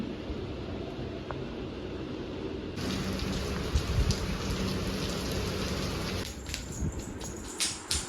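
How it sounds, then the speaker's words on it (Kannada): Steady rain falling, a constant soft wash of drops that grows slightly denser and brighter partway through, with no voices. "ಮಳೆ ಆಯ್ತು"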